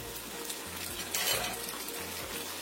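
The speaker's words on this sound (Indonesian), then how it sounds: "kita masukkan tahu yang sudah kita goreng. Aduk rata." Fried tofu and onions being stirred in a hot pan, with a steady oily sizzle and soft scraping strokes of a utensil against the pan, close and continuous.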